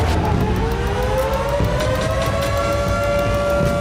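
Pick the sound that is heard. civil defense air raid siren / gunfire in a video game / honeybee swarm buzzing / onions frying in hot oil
civil defense air raid siren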